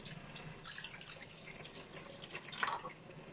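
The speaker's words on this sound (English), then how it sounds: "So I'm going to go ahead and pour my lemon juice here, pour it into this plate" Lemon juice pours into a plate for a chicken marinade with soft, faint trickling and splashing, quiet and close, with a slightly sharper splash near the end.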